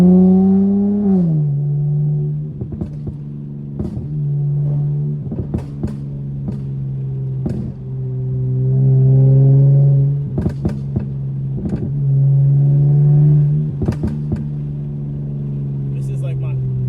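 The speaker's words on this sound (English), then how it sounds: "We're gonna get these burbles going" Tuned Dodge Charger SXT driving on back roads in Mexico, a steady low engine drone with pitch rising and settling through shifts, punctuated by sharp crackling exhaust burbles scattered throughout the run.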